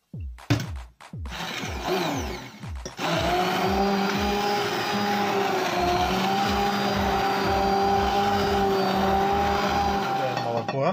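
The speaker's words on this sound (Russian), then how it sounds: "и взбиваем все блендером" A few clunks and knocks, then an electric blender whirs loudly and steadily through mushrooms and beer for the rest of the clip, close by, its motor pitch holding even.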